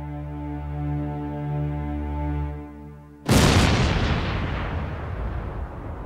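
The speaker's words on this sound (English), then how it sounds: "unveiled a secret weapon: Big Bertha, the world's largest cannon." Big Bertha, the giant German siege cannon of the First World War, fires a single huge deep blast that breaks in suddenly after a steady low tone and rolls on in a long, loud, fading rumble.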